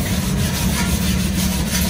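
Body filler being sanded on the steel body of a Mahindra Bolero camper, a loud continuous abrasive rubbing and grinding noise, steady and close with no pauses.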